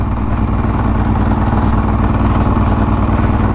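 A motorcycle engine thrums loudly and steadily up close, a continuous low rumble with a faint whine above it.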